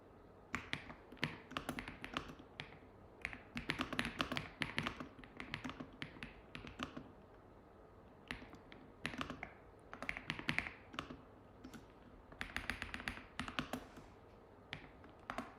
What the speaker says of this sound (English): I'm just typing something, trying to figure it out.